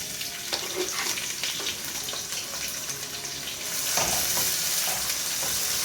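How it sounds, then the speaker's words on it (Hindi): Sliced onions hitting hot oil for chicken pulao, setting off a steady, close sizzle and crackle that swells louder partway through as the frying picks up, with no talk over it. "साथ ही मैं डाल रही हूँ इसमें प्याज"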